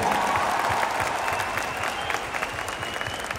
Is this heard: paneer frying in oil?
no